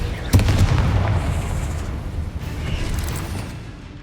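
A Confringo blasting spell in Hogwarts Legacy goes off as a sudden booming burst, followed by a rumbling, fizzing decay and a second softer rush of magical noise trailing away.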